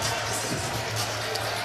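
A boxing crowd roars at a Top Rank fight, a steady dense wash of cheering that holds throughout the short moment with no clear break.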